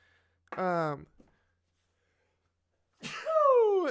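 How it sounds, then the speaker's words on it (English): A sharp sneeze bursts out near the start, followed by a pause of silence and then a longer voiced exclamation or sound close to the mic. "why not start off the stream with a big old sneeze?"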